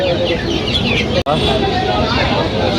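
Gray-silver Brahma chickens cluck steadily amid a busy, noisy market crowd at Kaptan Bazar, the clucking close and continuous with a brief dropout partway through.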